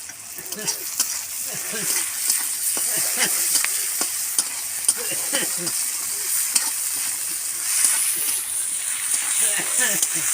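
Onions fry in a pan with a continuous crackling sizzle as they are stirred now and then, while a voice talks intermittently underneath.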